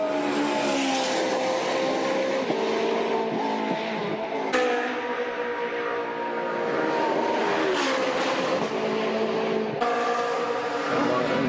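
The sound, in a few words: race cars on track, Bathurst 12 Hour qualifying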